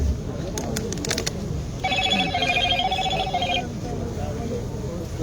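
A telephone rings in a brief run of repeated electronic trills under steady crowd noise at a protest gathering, with voices around.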